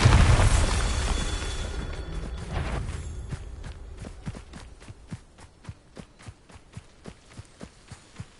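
A Bombarda spell blast in a wizarding video game, booming loudly and rumbling off over the first three seconds before a run of evenly spaced footsteps takes over, with no one talking.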